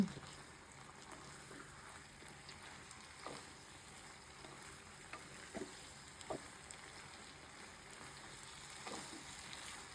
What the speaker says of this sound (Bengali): এই সবজি আস্তে আস্তে নরম হচ্ছে আর কষানো হচ্ছে